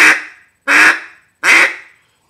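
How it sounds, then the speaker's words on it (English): Three short nasal quacks from a duck call, evenly spaced and close, each fading quickly into silence. "you can hit them with some small quiet quacks"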